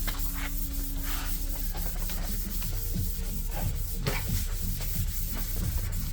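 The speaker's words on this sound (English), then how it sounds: "I am gonna wipe this down with wax and grease and then some mineral spirits" A rag wipes the body of a 1987 Civic with wax and grease remover before paint, producing soft, repeated rubbing strokes close by with faint scraping, and no voices.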